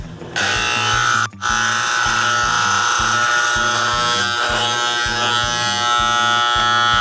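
A Predator MIG 300-amp welding machine under test gives a loud, steady electric buzz with a rhythmic low pulsing. It drops out briefly near the start, then continues unbroken.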